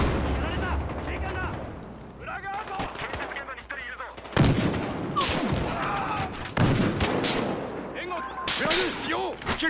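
Gunfire and sniper shots in Battlefield Hardline at a construction site: sharp cracks and bursts of shots scattered across the clip, some loud and close, with someone talking between them.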